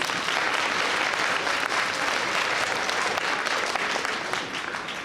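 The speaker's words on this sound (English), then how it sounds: "Can we all clap it up for our guest speakers?" An audience at a breakfast event gives guest speakers sustained, dense applause, loud and even throughout.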